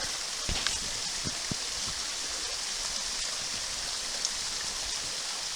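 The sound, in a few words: water flowing in a river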